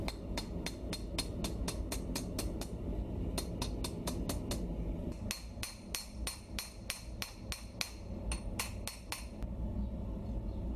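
Hammer striking a steel bearing on the horn of an anvil while forging a knife, a long steady series of sharp ringing metallic blows, close and rhythmic, with brief pauses between runs.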